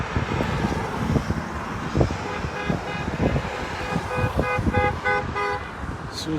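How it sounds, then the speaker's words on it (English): Car horns honk repeatedly at a roadside Trump rally, with several short and sustained toots over passing traffic noise and faint voices in the background. "The sign says honk for Trump"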